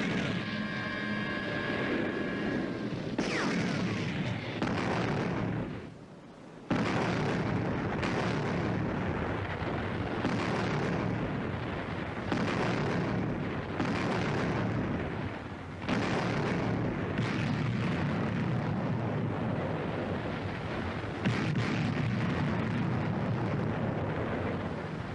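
WW2 artillery fire and explosions in North Africa, a dense, continuous roar of blasts and booms that stays loud throughout, with a brief drop partway and a mechanical whine at the start.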